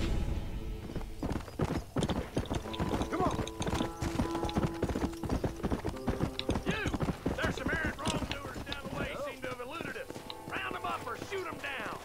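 Rapid clip-clop of galloping hooves in the video game Red Dead Redemption runs throughout, with a horse whinnying partway through and a voice talking over it.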